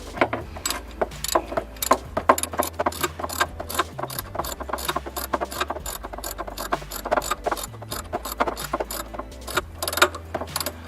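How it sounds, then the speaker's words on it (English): A wrench works an alternator bolt on a Nissan Altima, giving rapid metallic ratchet clicks and clanks that repeat steadily over a low mechanical hum, close and fairly loud, with no talking. "the rest you can go in with your wrench"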